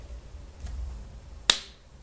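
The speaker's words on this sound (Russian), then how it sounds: "Неудачно я хлопнул." One sharp hand clap, mostly hand-to-hand impact with no ring to it, cracks once near the end of a quiet room-tone stretch.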